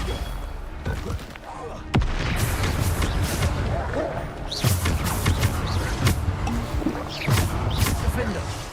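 Spell explosions from the Bombarda charm in the Hogwarts Legacy video game, several booming thuds bursting through a dense, continuous battle din, with a voice talking over the fighting.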